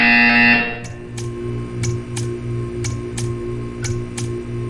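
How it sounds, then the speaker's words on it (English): In the Portal 2 video game, a short electronic tone cuts off and gives way to a steady series of sharp ticking pulses over a low mechanical hum, spaced about half a second apart and clear at a moderate level. "You will hear a buzzer."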